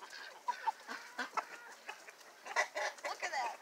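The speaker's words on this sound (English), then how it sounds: "I love this rooster. He's so pretty." A rooster clucks softly and fairly close in short uneven bursts on a farm, the calls faint and scattered with no loud crowing.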